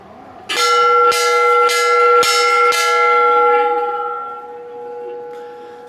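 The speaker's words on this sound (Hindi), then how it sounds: "अभी भगवान की ये घंटी बजाते हुए" A temple bell at the Kali Mata temple in Chaukhutia is struck about five times in quick succession, loud and ringing, and its bright metallic tone hangs and slowly decays afterward.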